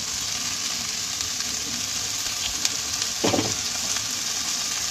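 Steady frying sizzle of vegetables in a pan as cooked rice is added for veg fried rice, with a brief scraping stir and a soft clump of rice dropping in midway; no talk.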